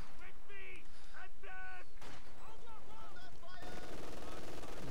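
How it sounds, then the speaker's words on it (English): MG42 machine gun firing in a World War II strategy video game, bursts of rapid gunfire mixed with other battle sounds and whistles, under a commentator's continuous talk. "MG42 opening up on conscripts."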